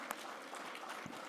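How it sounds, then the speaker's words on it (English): An audience at the Solutions Utah annual conference applauds its panelists with a brief, steady, faint wash of distant clapping. "Let's give a huge round of applause to our panelists"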